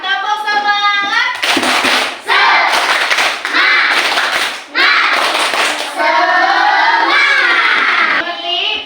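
Children in an Islamic religious education class do a loud rhythmic spirit clap, several bursts of clapping with shouted chanting. Between the clap sections there are short pauses and excited voices.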